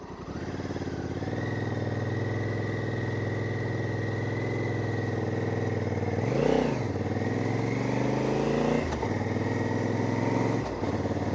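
A Honda Hawk 11 motorcycle engine idling steadily nearby on a mountain pass road, then revving up and settling as the bike makes a U-turn, with a second throttle blip near the end.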